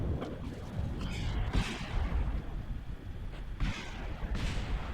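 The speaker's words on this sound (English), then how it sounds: "it's not a KSP without some explosions, at least when testing" Rocket explosions in Kerbal Space Program during a launch test: a rumbling string of booms and sharp blasts, with several louder bursts scattered through the noise.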